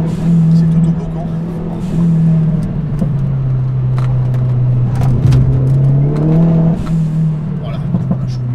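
A Ford Focus RS Mk1 car engine hums steadily and then revs up as it accelerates, heard from inside the car, with someone talking over it.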